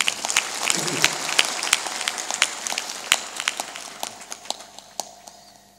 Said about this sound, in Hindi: एक बार आदिवासियों की कला के लिए उनको ताली बजाकर अभिनंदन कीजिए।